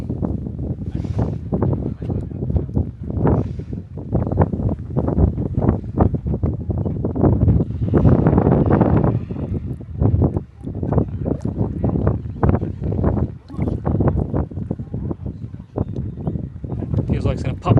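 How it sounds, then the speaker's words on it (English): Strong gusts batter the microphone at the mud volcanoes of Gobustan, Azerbaijan, a loud, uneven roar rising and falling throughout while someone talks over it. "It's a lot windy here as well"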